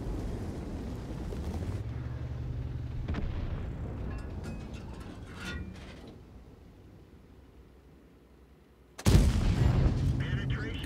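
A T95/FV4201 Chieftain tank gun fires in World of Tanks, with a muffled boom near the start and a sudden loud blast near the end followed by rumbling, heard over low engine drone.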